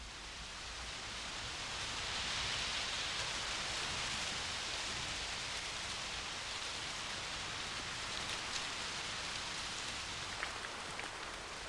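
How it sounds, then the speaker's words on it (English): Heavy rain from squalls sweeping over misty islands pours down in a dense, unbroken hiss, loud and close with scattered droplet taps, constant throughout. "The squalls which sweep over the islands shroud them in mist and unleash tremendous quantities of rain"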